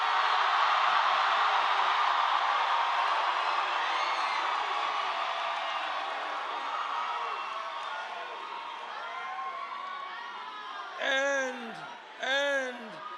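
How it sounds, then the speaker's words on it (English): A large, loud crowd roars and cheers continuously at a Bernie Sanders rally in Phoenix, the noise fading slightly over time before two short bursts of whooping rise near the end. "And this is a loud crowd."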